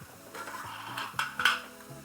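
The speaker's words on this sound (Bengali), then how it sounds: "এখনই দিয়ে দিচ্ছি যে বরবটিটা ঢেলে দিয়ে দিলাম" Long beans tipped into a pan of oil-released, cooked-down spice masala for a Bengali vegetarian curry, with soft scraping and clattering bursts that build toward two sharper knocks near the end, close and fairly quiet with no talking.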